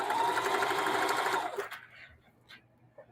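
A sewing machine stitching quilt blocks runs in a fast, even whir for about a second and a half, then stops, leaving quiet with a few faint clicks.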